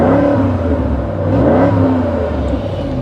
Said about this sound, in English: It's got a good sounding exhaust on it.